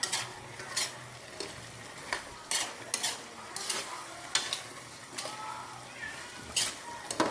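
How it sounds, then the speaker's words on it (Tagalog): Chicken for tinola sautés in its own fat in a pot, with a soft sizzle under regular, rhythmic scrapes of a spoon stirring at close range. "Nagsisimula na po siya magigisa sa kanyang sariling mantika"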